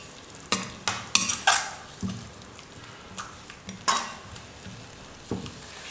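Fish curry masala with onion and tomato sautés on a medium flame: a spatula clatters and scrapes the pan in quick, uneven strokes over a low, constant sizzle. No speech.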